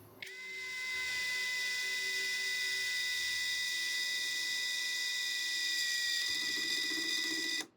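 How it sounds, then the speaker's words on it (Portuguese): Hanabi LJ2022 cordless drill at speed 1 driving a 4x40 screw into pine, a steady high motor whine that holds for several seconds with a slight change in pitch near the end before stopping. "Faceamos também o parafuso na velocidade 1, na madeira pinos"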